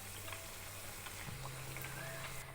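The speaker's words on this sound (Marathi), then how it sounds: "आणि सर्व चिरोटे असेच तळून घेऊ." Chirote, sweet layered pastries, deep-fry in hot oil, giving off a faint, continuous sizzle and bubbling with a low steady hum beneath.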